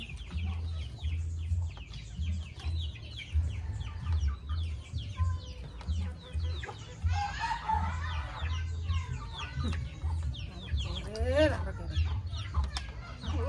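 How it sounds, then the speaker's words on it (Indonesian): Chickens cluck and squawk around a tree house, a steady run of busy calls and chatter over a low rhythmic background hum, fairly close and continuous throughout. "Ini tuh ayam. Nang rumah pohon ayam."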